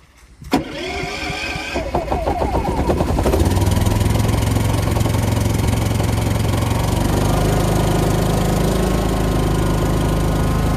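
Predator 5000 inverter generator with the eco mode off, cold-started outdoors in Maine: a sharp starting clack, a brief sputter, then the engine catching and settling into a steady, loud mid-pitched running drone.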